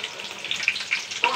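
Chopped garlic hitting hot oil in a wok for frying Malabar spinach, giving a steady crackling sizzle with a few sharper pops, close and moderately loud.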